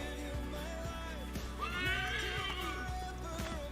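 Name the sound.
horse neighing in video game Assassin's Creed 3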